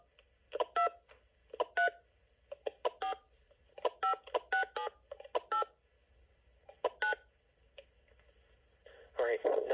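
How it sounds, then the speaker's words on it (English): Cordless phone keypad dialing tones, a series of short, clear beeps in quick bursts separated by pauses, close and moderately loud, ending in a stretch of garbled noise. "Let's listen to how the dialing sounds."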